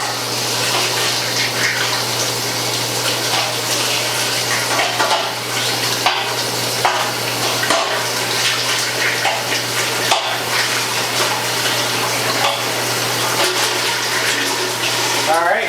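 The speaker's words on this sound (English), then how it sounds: "We'll rinse out what we got in here." Scalding hot water rushes and splashes steadily inside a stainless steel Ss Brewtech unitank during rinsing, a loud, continuous wash that drains out below.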